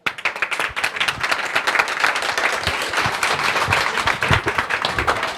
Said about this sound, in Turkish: Alkışlarla uğrayalım